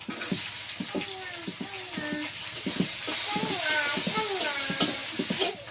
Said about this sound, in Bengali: এবার পরিমাণ মতন একটু পাঁচফোড়ন দেব আর এই যে কটা কাঁকড়া আছে আর এইগুলো দিয়ে ভেজে দেবো